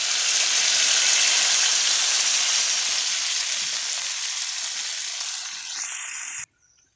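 Water poured into hot oil in a pan, a loud, bright, roaring sizzle that slowly fades over several seconds before cutting off abruptly, close up with no voices.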